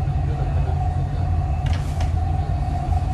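A Dubai Metro train running underway, a steady loud low rumble with a constant humming tone and a brief high screech partway through, no one speaking over it.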